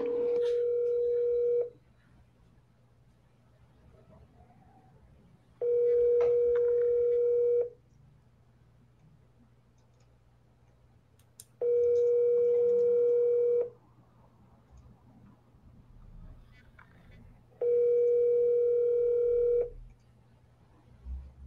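Telephone tones sound in four separate steady beeps of about two seconds each, evenly spaced with quiet gaps and a faint low hum underneath, as during dialing on a sales call.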